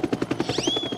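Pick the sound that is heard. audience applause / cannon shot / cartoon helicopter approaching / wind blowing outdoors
cartoon helicopter approaching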